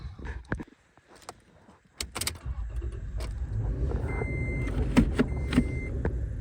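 Pickup truck in the mountains during an elk hunt: door and key clatter first, then the engine starts and the truck drives off with a steady rising rumble and a few squeaks.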